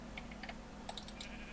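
Sheep bleating in the Minecraft-based game Feed The Beast, a couple of short synthetic bleats close and clear over a low background hum, mixed with light keyboard tapping.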